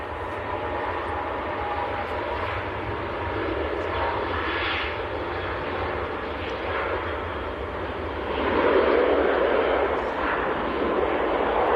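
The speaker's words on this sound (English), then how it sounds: "There's a Ryanair on the roll," A Ryanair airliner rolls for takeoff at Manchester Airport in freezing winter weather. Its jet engines give a steady, loud, broad roar that holds for several seconds and swells stronger toward the end.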